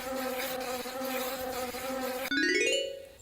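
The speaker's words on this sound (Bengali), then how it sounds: "মশা মাছি আমাদের বিরক্ত করতেছে" Mosquitoes and flies buzz steadily as a droning insect whine in the Meena 2 farm video game, loud and continuous, then a bright rising chime-like game effect takes over near the end.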